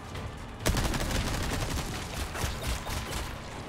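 Gunshots in Resident Evil 4 Remake, Separate Ways, opening with a sharp loud shot followed by a dense, continuous rattle of rapid fire and impacts for a few seconds.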